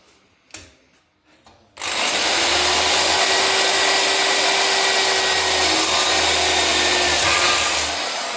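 Power drill boring a couple more holes in a workshop part, a loud steady high whine starting after a few faint knocks and holding for several seconds up close.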